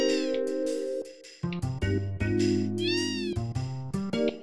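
Cat meows from the video game Final Fantasy VII, several distinct drawn-out meows close up and loud, set over a steady tonal game music backdrop with no talking.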